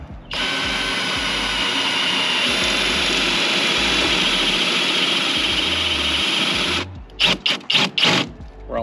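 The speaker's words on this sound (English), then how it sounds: "I like to start slow when drilling into the boat." A power drill bores through a boat hull to fit a catfishing rod holder, a loud steady whine held for nearly seven seconds, then a few short bursts as the bit breaks through.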